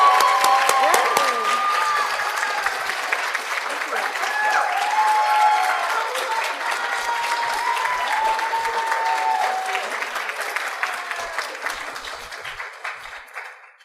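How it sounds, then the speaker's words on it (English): A graduation ceremony audience gives sustained, moderately loud applause for the graduates, a dense steady clatter of many hands with faint cheering and voices mixed in, tapering off at the end. "Final applause to all our graduates."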